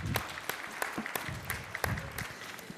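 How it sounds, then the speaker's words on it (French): A conference audience applauds at a plenary session, a moderate ripple of claps with distinct individual hand claps standing out, fairly close and without talk. "Je crois qu'on peut t'applaudir."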